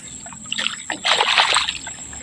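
Water trickling and splashing in a rice paddy, a soft irregular burbling that swells after the first second and stays close and steady, with no talk over it.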